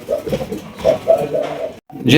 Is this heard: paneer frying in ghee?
no